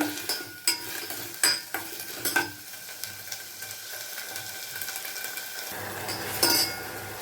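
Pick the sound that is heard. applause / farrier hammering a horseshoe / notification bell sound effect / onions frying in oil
onions frying in oil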